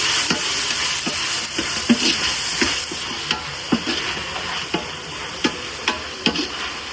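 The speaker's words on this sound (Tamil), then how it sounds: "எண்ணெயில் வதங்கட்டும்." Chopped vegetables sauté in hot oil in a pan for mushroom biryani, giving a steady close sizzle broken by regular scraping stirs of a spoon against the pan, with no one speaking.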